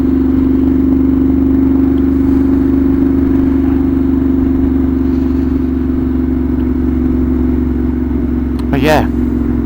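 Ducati Monster 1200 R motorcycle engine holding a steady loud idle with a deep, even throb throughout, as a person talks over it.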